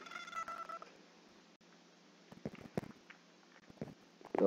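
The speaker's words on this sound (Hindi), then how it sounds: "और ये क्या बिल्ली, हम इसको टेम नहीं कर सकते अभी" A cat in the Minecraft video game gives a few short meows and purring sounds, faint and intermittent over a quiet game background, ending with a louder closer meow.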